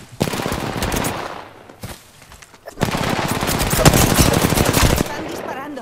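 Bursts of automatic gunfire in Apex Legends Arenas mode, dense rapid volleys that pause briefly before resuming louder and sustained, with crackling impacts throughout.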